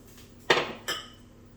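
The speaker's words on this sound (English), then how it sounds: "just place the other ingredients in the food processor. So we're going to put the black beans in and the breadcrumbs" Black beans and breadcrumbs tipped into a food processor bowl for gluten-free vegan burgers: two close clattering, clinking impacts about 0.4 seconds apart, the first louder, with no talking.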